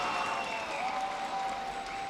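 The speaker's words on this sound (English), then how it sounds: "The Brazilian fans here in London are having so many opportunities to taunt and cheer these EDG players" Brazilian fans cheering during a VALORANT Masters London esports match, a broad, steady roar of crowd noise and applause filling a large arena, with a faint high tone running underneath.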